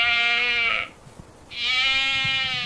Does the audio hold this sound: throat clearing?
no